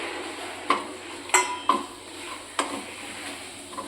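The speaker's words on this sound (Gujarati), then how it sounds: "ચાલો આપણું તેલ ગરમ થઈ ગયું છે તો આપણે સૂકા મસાલાનો વઘાર કરી દઈશું." Dry whole spices tempering in hot oil, a low sizzle under a few ringing metal clinks and scrapes of a spoon against the pan, close and unhurried with no talking.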